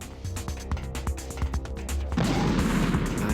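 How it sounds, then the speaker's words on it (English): A stun grenade detonates in Metal Gear Solid: The Twin Snakes. A loud burst of dense, roaring noise cuts in and sustains at the end, over a busy, rhythmic game score. "Last stun grenade here."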